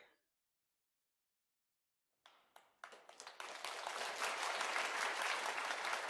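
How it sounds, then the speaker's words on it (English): A cheering crowd applause sound effect, played as a sound check, begins after two seconds of silence with a few scattered claps, then builds into dense, sustained clapping that holds loud to the end. "I'm going to do the cheering crowd."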